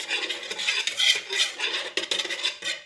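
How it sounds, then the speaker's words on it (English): Whisk or spoon scraping and clinking briskly in a bowl while oil is beaten into a wet, eggless cake batter. The strokes are quick and rhythmic and sound close up, with light tapping against the bowl's sides. "That is your wet mixture, and beat it nicely."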